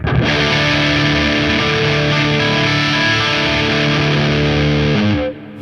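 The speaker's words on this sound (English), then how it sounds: "And that's in front of a crunch with the pedal on, which is already a gnarly distortion pedal." Heavily distorted electric guitar chords through a RedBeard Effects distortion pedal in front of a crunch amp ring out loud and sustained, a thick gritty wall of sound that cuts off abruptly near the end.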